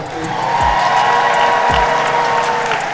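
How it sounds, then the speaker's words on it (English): Applause and scattered cheering from the crowd at a live Dreamcon 2022 convention show, a steady wash of clapping with a couple of low thumps and a faint steady hum underneath. "Y'all give him a round of applause"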